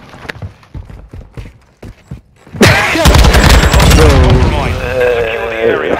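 Gunfire rattles in the video game Modern Warfare 2 as a loud, clipped flurry of sharp shots during the first few seconds. Excited, loud voices then take over and mostly bury the game sound.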